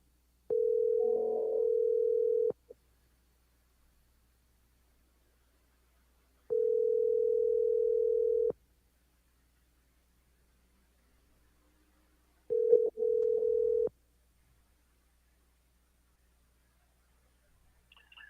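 An outgoing telephone call rings unanswered, a steady pure tone sounding in roughly two-second bursts separated by long silent gaps, three rings heard clearly over a faint hum.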